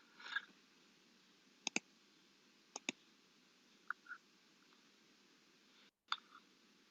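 A computer mouse clicks sharply to open MATLAB, with a few isolated close clicks including quick pairs scattered over quiet background hiss.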